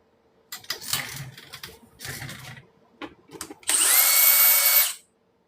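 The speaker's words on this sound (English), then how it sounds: "one of the other features about this DeWalt drill, if you notice, when I first turn it on, it hesitates a little bit" A DeWalt cordless drill whirs in several short, hesitant bursts at close range, then runs in one loud, sustained spin for over a second before cutting off sharply, with no talking.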